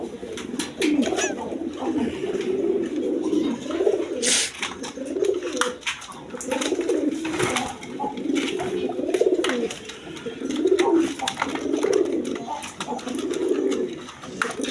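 Several pigeons coo in steady, overlapping rounds close by, a continuous throaty chorus of domestic birds with occasional wing flutters and light clatter, no talking.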